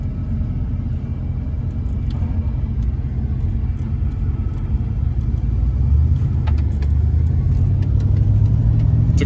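A 1986 Oldsmobile 442 accelerates with a loud, steady low engine rumble that builds and deepens toward the end, heard from inside or close by, with no talking.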